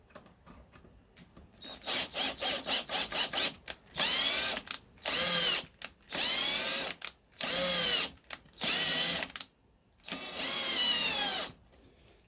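A power drill drives waxed screws into pre-drilled holes, first in a quick run of short trigger bursts, then in longer whirring pulls with rising and falling pitch as the screws are worked in and out, loud and close.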